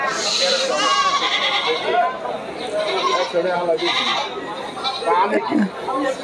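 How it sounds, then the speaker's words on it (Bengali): Mother goats tethered at a crowded goat market bleat repeatedly, close and loud, amid constant chatter from people nearby. "দেখুন দর্শক পাটি মা ছাগলগুলো দেখে রেখেছে।"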